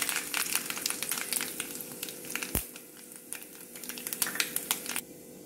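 Mustard seeds crackle and pop in hot oil for beetroot pickle, a dense near spatter of quick sharp ticks over a steady sizzle, with one louder knock midway and no voices.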